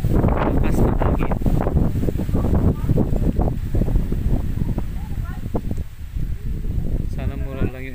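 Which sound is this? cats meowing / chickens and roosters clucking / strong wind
strong wind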